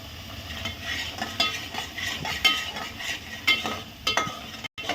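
Paste of four onions and a tomato fries over a full flame for a paneer curry, a close steady sizzle with frequent stirring scrapes and utensil taps, no speech.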